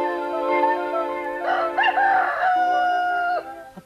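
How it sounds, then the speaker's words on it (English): A rooster crows once, a loud clear cock-a-doodle-doo rising and then trailing off, heard on its own. "Cockerel, cockerel."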